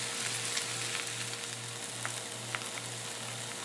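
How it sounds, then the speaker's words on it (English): Potato slices fry in a pan, giving a steady, dense sizzle with scattered small pops and crackles. The sound holds at an even level throughout and carries no talk. "You can fry up a few slices of a potato"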